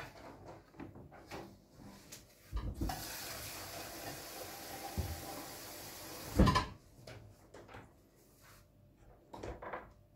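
Water from a kitchen tap runs into a pot for cauliflower soup, a steady hissing stream for several seconds, framed by quiet clunks of the pot and kitchen handling before and after.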